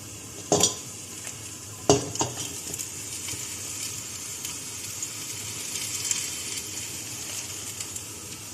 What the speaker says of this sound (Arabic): يلزمنا البصل يتقلى مع كميه السلق